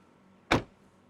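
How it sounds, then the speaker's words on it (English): A Hyundai Santa Fe 1.6L hybrid SUV door swings shut with a single solid, close thud that dies away quickly in otherwise quiet surroundings. "Listen to how the door shuts."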